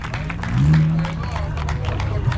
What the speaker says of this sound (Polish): Wielkie brawa dla Moniki i dla Wasi!